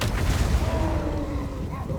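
In a Warhammer battle game, the Foot of Gork explosion spell hits with a heavy, booming impact and rolling low rumble, layered over dense battle noise and a faint tonal whine that fades out.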